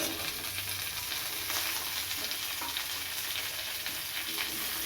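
Onion and red capsicum sizzle in a pan over garlic already fried for chili chicken, a steady close hiss with soft stirring scrapes throughout and no one talking.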